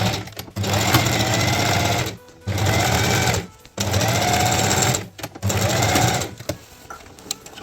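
A sewing machine stitches a denim jeans tote bag in four loud, close bursts of rapid motor-driven needle chatter, each separated by a brief pause.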